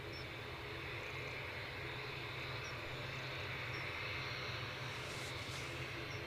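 An Airbus A220 at Edinburgh Airport produces a continuous, moderately distant jet engine roar, steady and broad, building faintly near the end without any speech.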